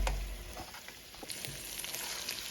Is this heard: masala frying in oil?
yes